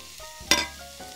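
Carrots tipped into a hot pan with garlic and onion give a brief, close sizzle that swells sharply and fades within a second over a quiet kitchen background.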